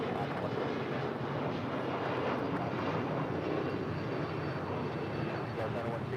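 An Airbus A380 arriving at LAX on the north side makes a steady, broad jet roar that holds evenly throughout, with some wind rumble mixed in.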